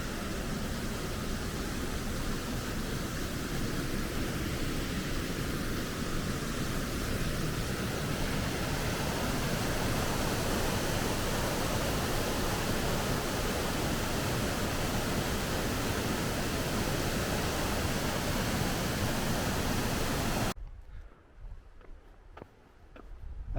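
Pistyll Rhaeadr waterfall roars as a steady, loud, close wash of falling water with no voices, then drops away sharply near the end.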